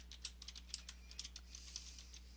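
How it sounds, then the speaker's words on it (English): Keys clatter on a computer keyboard as a file name is typed in before saving, a quick, light, irregular run of clicks sounding close and alone over a low steady hum. "Type in a file name for it."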